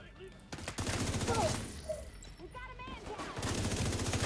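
A tank-style main gun fires in a video game as bursts of rapid gunfire at the start and end, with someone talking over the middle.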